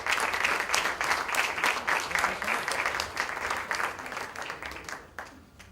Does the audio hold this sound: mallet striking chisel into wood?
no